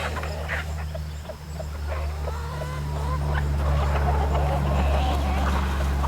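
Chickens and ducks let out of their coop on a farm, with scattered quacking and clucking calls over a steady low hum and outdoor background, while people talk nearby.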